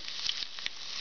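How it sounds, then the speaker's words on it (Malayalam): Mustard seeds and dried red chillies sizzle steadily in hot oil in a pan, a close, continuous crackling hiss with a few sharper pops, heard alone. "പാൻ വെച്ച് എണ്ണ ചൂടാക്കി നമുക്ക് കടുക് ഇട്ട് കൊടുക്കാം."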